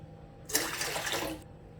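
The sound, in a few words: water poured into cooking vessel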